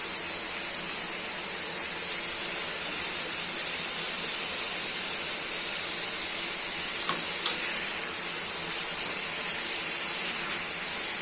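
Chicken sizzling in ghee with ground masala in a wok, a steady loud hiss of frying that holds evenly throughout, with two faint clicks near the end.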